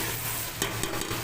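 Garlic ginger paste sizzles and fries with softened tomatoes in a hot pan, a steady close crackle with brief stirring scrapes and no voices.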